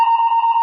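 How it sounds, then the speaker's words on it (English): A brief, loud fire alarm test tone sounds, a steady piercing beep with a bright overtone that stops abruptly. "They're just testing the fire alarm,"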